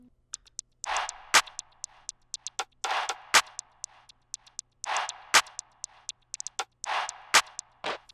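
Sharp, dry plugg rim clicks repeat in a quick syncopated pattern alongside short noisy bursts, forming a looping ambient plugg beat made in FL Studio, with no voices.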